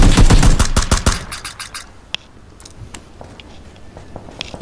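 Video game shooter gunfire, a fast loud burst of automatic shots up front that fades into scattered single cracks and distant pops.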